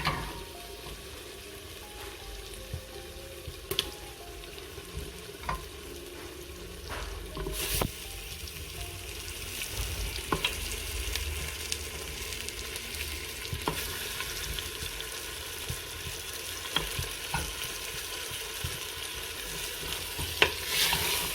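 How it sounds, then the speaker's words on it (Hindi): Meat sizzles steadily in a pan over low gas heat while being stirred and fried, with a continuous soft frying hiss broken by intermittent clinks and scrapes of the spoon. "और अब इसमें मैं जो है वो गोश्त डाल दूंगी।"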